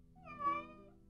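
A cat meows in pain, giving a single drawn-out, wavering cry that swells and fades, heard alone at moderate distance with no talk.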